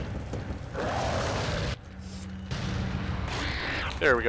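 Grenade explosions in Resident Evil 4 sound as deep rumbling booms with rolling gunfire-like bursts at moderate distance, with a short quiet gap between them and someone speaking briefly near the end.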